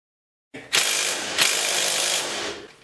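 A ratchet wrench with a swivel extension loosens a bolt on a 2009 Polaris Ranger 700 XP, giving a close, loud rasping burst of clicking that runs for about two seconds before trailing off.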